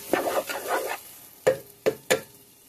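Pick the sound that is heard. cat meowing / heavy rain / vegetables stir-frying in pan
vegetables stir-frying in pan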